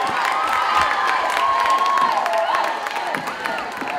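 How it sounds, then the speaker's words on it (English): A quiz show audience claps and cheers for a contestant, a crowded burst of applause with whoops that carries on steadily across the whole stretch. "Give her a round of applause."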